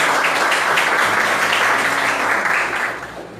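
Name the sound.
congregation applause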